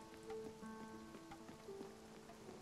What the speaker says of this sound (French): Et vu qu'il pleut